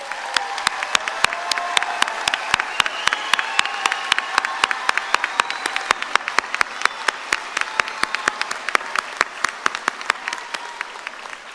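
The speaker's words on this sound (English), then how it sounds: "Please join me in giving a huge round of applause to today's graduates." Graduates at a 2023 health professions commencement in Harlingen receive loud, sustained applause from a large crowd, with sharp individual claps cutting through a dense background of clapping and murmur for over ten seconds.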